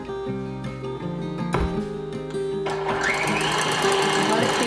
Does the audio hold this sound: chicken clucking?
no